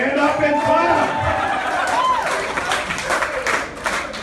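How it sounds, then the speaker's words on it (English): Wedding guests stand and clap at a reception, a short burst of crowd applause mixed with cheering and loud voices. "If you're a Downey, stand up and clap."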